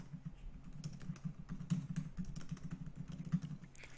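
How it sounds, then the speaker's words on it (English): Rapid, uneven tapping of fingers on a computer keyboard, close by, over a low steady hum. "So we can go ahead and type it in"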